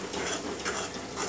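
Ground masala paste fries in oil in a pan for Konkani stuffed brinjal, a soft continuous sizzle with faint stirring scrapes. It stays close and fairly quiet throughout, with no talking.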